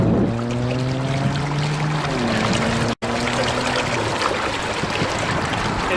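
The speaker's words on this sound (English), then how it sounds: "It definitely catches your attention when you have that much water draining into the drainage system." A large volume of water drains into a street drainage system by an unfinished Las Vegas hotel construction site, heard as a steady rushing flow with tonal hum over it and one brief dropout.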